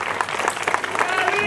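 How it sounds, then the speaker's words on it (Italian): Brief burst of crowd applause for the festival committee during a band concert at a town feast honoring the Madonna, a continuous close patter of clapping with faint voices underneath. "Dobbiamo fare un grande applauso al comitato, a questi ragazzi che si impegnano per questa festa."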